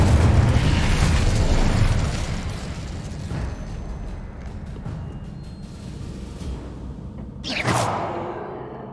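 Incendio fire spell effects in Hogwarts Legacy, a loud roaring burst of flame that fades into a lingering crackle, then a sharp whooshing flare near the end.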